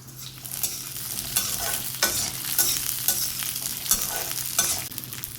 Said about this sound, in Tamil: இப்போ நம்ம வெங்காயமும் பூண்டும் நம்ம சேர்த்து வதக்கிக்கலாம்.